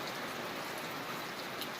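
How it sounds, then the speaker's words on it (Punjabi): Heavy rain pours down outdoors in Punjab during a gathering, making a faint, steady hiss throughout the short stretch with no talk. "ਰੱਜ ਬਾਰਸ਼ ਪੈ ਰਹੀ ਹੈ"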